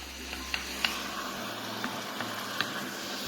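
Soffritto for an octopus ragù fries steadily in a pan, a close, even sizzle punctuated by a few sharp spoon taps and stirring clicks, with no voices.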